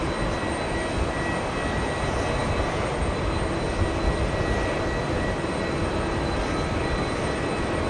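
An Airbus A321 on runway 22 left at JFK airport gives a steady, broad jet engine roar that stays even and constant throughout.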